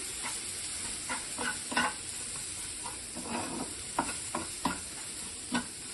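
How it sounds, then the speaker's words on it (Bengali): Spice masala with coriander powder and tomato fries in a pan over lowered heat. A soft, steady sizzle runs beneath about a dozen irregular scraping strokes of a spatula stirring it close by, with no voices. "মশলাটাকে আমাদের ভালোভাবে কষাতে হবে, আঁচটা আমি কমিয়ে দিচ্ছি।"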